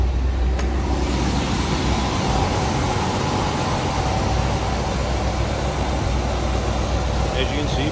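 1975 Chevrolet Corvette coupe engine idling, a steady low rumble held at an even level throughout, close and continuous, with faint background voices.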